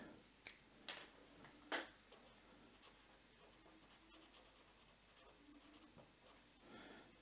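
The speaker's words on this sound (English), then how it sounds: "New sheet, write it down." A pen scratches across a fresh sheet of paper in short, quiet strokes and taps, faint and close, with small irregular pauses between marks and no talking.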